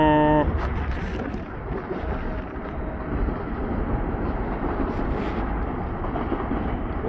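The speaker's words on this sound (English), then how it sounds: "Boy, it wasn't much of a coal train." A coal train rolls through the railroad yard at Helper, Utah, its steady low rumble and rail noise heard from a high vantage point, continuous and fairly loud, opening with a brief horn-like tone.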